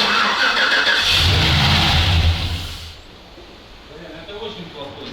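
A ZIL-131 truck fitted with a Chevrolet engine and automatic gearbox cranks and catches, revs roughly for a couple of seconds, then stalls and dies away. Voices talk nearby over the engine.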